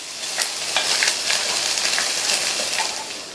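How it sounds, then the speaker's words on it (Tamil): Vegetables and a small ball of tamarind for chutney are being sautéed in a pan, with a steady loud sizzle and bursts of frying crackle and occasional stirring scrapes. "சின்ன கோலி குண்டு சைஸ் அளவு புளியை சேர்த்துட்டு மறுபடியும் நல்லா லைட்டா ஒரு வதக்கி விட்டுட்டு"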